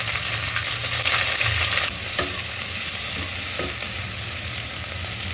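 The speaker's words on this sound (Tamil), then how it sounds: "இந்த வெங்காயம் ரொம்ப ப்ரௌன் கலர்லாம் வர வேண்டாம், இல்லை ஜஸ்ட்டு வதக்குனா போகிறோம்" Onions sautéing in ghee for ghee rice, a steady close sizzle running throughout with occasional soft stirring scrapes and no voices.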